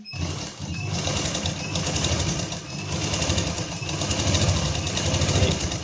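A sewing machine runs steadily while stitching a seam on a fitted suit, a loud close whirring hum with fine rapid needle chatter, continuing without pause and no voices heard.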